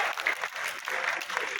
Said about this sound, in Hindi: फिर जोर से तालियां बजाओ।